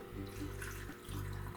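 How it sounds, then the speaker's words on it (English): Sweetened water pours into canning jars for home-canned peaches, making a continuous close gurgling stream with a brief dip in the middle, steady and without speech. "So I'm going to fill these with my sweetened water here, and just fill these jars up to the bottom rim"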